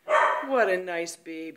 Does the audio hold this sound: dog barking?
yes